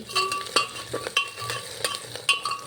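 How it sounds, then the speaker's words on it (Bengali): Onions frying in hot oil with garam masala spices while mutton is being cooked, giving a steady close sizzle broken by several sharp scraping stirs and utensil clinks, with no talking. "পেঁয়াজগুলো আমি ভেজে নিচ্ছি"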